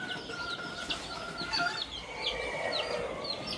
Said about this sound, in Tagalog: 2-week-old chicks.